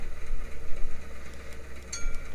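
A ship's engine in a game settles back down from high revs to a steady running speed. It makes a continuous low rumble with pulsing loudness throughout and no talk over it.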